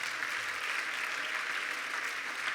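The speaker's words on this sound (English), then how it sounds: "some applause" Audience applause at an annual benefit dinner for a Texas pro-life organization, a continuous even rush of many hands clapping, moderately distant, with no talk over it.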